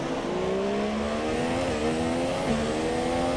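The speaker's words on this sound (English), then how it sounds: "I'm trying to keep the revs down, but it's very difficult to do here." Inside the F1 2017 video game, an F1 race car engine screams at high revs during a race in China. The whine holds steady with slight pitch shifts through gear changes and is loud and close, with no talking.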